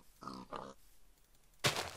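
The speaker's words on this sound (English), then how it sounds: "I can hear a pig or something." Pig grunts from the video game Minecraft: two short grunts close together, followed after a pause by a louder, sharper grunt, heard alone without talk.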